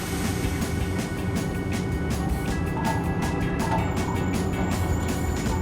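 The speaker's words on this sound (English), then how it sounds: "I'll let you guys drive the trolley" A trolley pulls away and keeps rolling, giving a steady rumbling drive noise with faint high squeals and rattles at an even level throughout.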